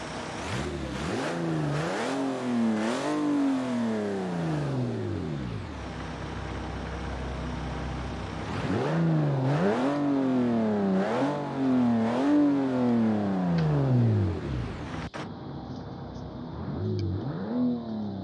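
A BMW E36 exhaust sound mod in a video game, with the engine revving up through several rising gear pulls, easing off, then climbing through another run of shifts before settling into a lower hum, loud and close.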